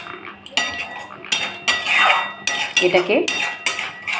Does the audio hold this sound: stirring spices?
yes